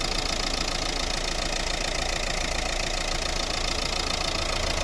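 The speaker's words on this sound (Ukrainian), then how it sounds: "Класно працює двигун." A 2012 Renault Grand Scenic III with a 1.5 dCi diesel engine and manual gearbox idles close by, a steady even clatter and hum with a fine rhythmic knock and no voices.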